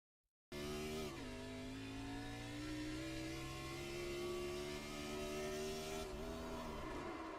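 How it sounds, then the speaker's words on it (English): A stock car in the iRacing eNASCAR Cup Series at Kentucky roars steadily just after leaving pit road, its loud, close engine drone dropping sharply in pitch as it downshifts, then holding and shifting again near the end. "Ooh, I think he downshifted."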